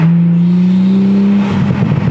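A Toyota Supra fitted with an HKS carbon intake runs with a steady turbo and exhaust drone that holds a low tone, then swells into a rougher, louder rasp near the end, close by with no talk.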